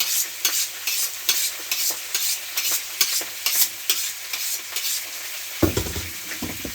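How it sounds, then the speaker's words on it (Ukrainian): Pork sizzles steadily in a frying pan, with rhythmic stirring scrapes throughout and a louder clatter of the pan near the end. "І поки шкварчить сковорода, значить все добре"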